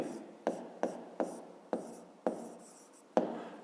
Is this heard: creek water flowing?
no